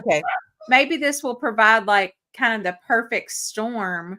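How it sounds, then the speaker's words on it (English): Dogs bark and yip in the background, their sharp barks mixed with a person speaking close to the microphone. "sorry guys, if y'all can hear my dogs barking."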